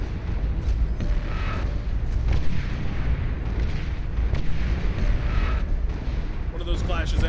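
A slightly damaged Juggernaut blowing up in Beyond All Reason, a heavy boom rising out of a sustained wash of battle explosions and rumble, loud and thick from start to end.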